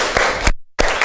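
A classroom claps for a student, a short burst of applause broken by a brief gap before the clapping resumes.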